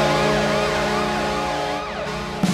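A hockey team's goal siren blares loudly and continuously, its rising and falling wail sweeping steadily for the whole stretch with no talk over it, ending in a brief knock.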